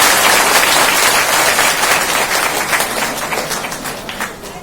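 A large crowd at a public gathering in Fatehpur claps vigorously for itself, a loud, dense roar of hand claps that stays full before gradually thinning into scattered claps.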